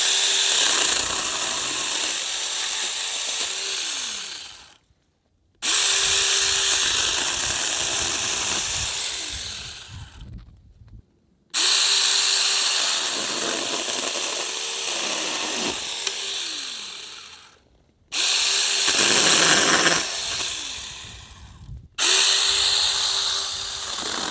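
A SeeSii mini chainsaw cuts through grapevines in four sustained, buzzing bursts of several seconds each, its motor whining and bogging as it bites, separated by short silent pauses.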